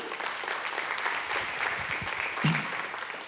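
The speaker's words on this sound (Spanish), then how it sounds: "Un aplauso para el Señor." Church congregation applauding during a Spanish-language sermon, steady dense clapping filling the whole clip with a brief louder swell near the end.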